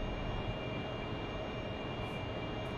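An AV-8B Harrier's jet engine roars steadily during takeoff in the DCS flight simulator, a dense, continuous broadband rumble with a constant whine that holds at an even level throughout, with no one talking.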